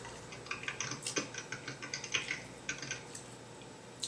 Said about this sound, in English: you're typing still?